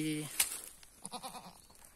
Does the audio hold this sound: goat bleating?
yes